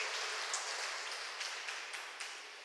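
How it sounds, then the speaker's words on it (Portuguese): A church congregation claps in praise of the name of Jesus, a soft, distant patter of many hands with a few sharper claps standing out, slowly fading toward the end. "Vamos dar um aplauso ao nome do Senhor Jesus. Bem forte esse aplauso."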